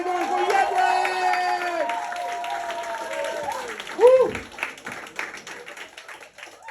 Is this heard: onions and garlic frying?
no